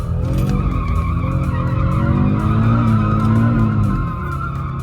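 An Audi all-wheel-drive drift car skids with a loud, sustained tire squeal over a droning, wavering engine note, close by, which eases slightly near the end.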